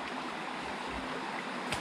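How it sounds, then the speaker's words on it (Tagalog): Steady broadband rush of a creek flowing beside a site where a large fish pond is being built, continuous and fairly close with no talk over it. "nasa gilid tayo ng sapa"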